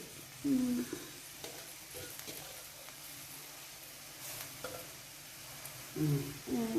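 Mint and coriander leaves are sautéed in a pan for a mint-tomato chutney, giving a soft, low sizzle with occasional quiet stirring scrapes. Brief bits of voice come through now and then.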